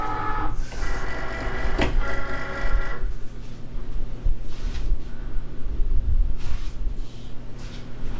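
A Cricut cutting machine pulls in the cutting mat: a buzzy motor whir for about three seconds, then softer mechanical shuffles and clicks as the mat feeds through, heard up close with no voices.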